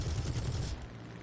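A short burst of rapid cannon fire from a Spitfire fighter in War Thunder, a loud, fast rattling volley lasting under a second before cutting off to quieter engine drone.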